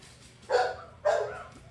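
Dogs bark in two loud, close bursts about half a second apart, with a quiet pause between them, heard outdoors at a rural home while a four-wheeler runs somewhere nearby.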